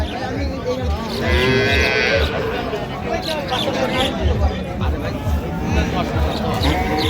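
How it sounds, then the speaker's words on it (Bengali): A cow at a cattle market with calves for sale lows loudly amid the noisy crowd, as people keep talking and chattering close by throughout. "গাভী বাছুর আমরা দেখছিলাম এখানে"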